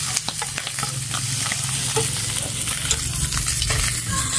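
Food sizzles steadily in a very hot frying pan, a dense continuous crackle with a low hum beneath and occasional stirring knocks, close and alone without voices.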